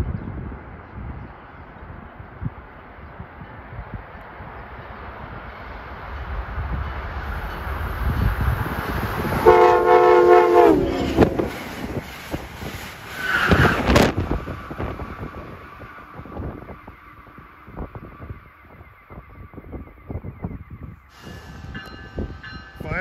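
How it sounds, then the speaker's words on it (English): Amtrak 652 passenger train from Harrisburg to New York approaching at Hamilton, New Jersey, a rumbling roar that builds steadily amid wind, with a loud horn blast and screeching wheel and rail tones as it nears. "Approaching at 5:49 is Amtrak 652 from Harrisburg to New York."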